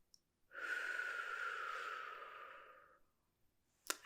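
A single long, deep breath goes out at a medical check-up. The steady breathy exhale runs about two and a half seconds, up close and gentle in a quiet room, then fades out and is followed by a faint rustle.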